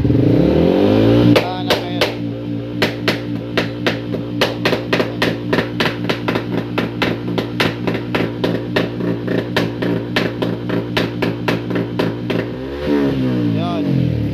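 A motorcycle engine being tuned, held at under 30% throttle: a loud idle rises into a rhythmic, pulsing rev with clattery firing pulses for several seconds, then drops back to a steady idle.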